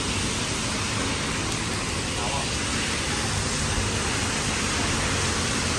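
Heavy torrential rain pours in a dense, unbroken hiss that stays loud and even throughout, filling the whole scene, with a voice speaking under the downpour.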